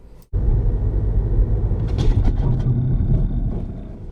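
A car braking hard to an emergency stop on a road during a driving test, heard as a steady loud engine and road rumble throughout with brief higher squeals midway, no talking.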